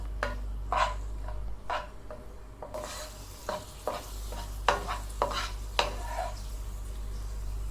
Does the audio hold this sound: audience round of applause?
no